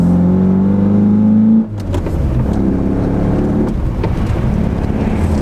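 Toyota 4A-GE engine fitted with motorcycle carburettors in an AW11, droning steadily before a sudden throttle blip and ragged, rough revving that follows loud and close.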